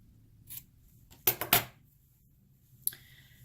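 Scissors snipping a crochet yarn tail on a handmade rose, a couple of quick crisp close cuts in near silence, preceded and followed by faint single clicks.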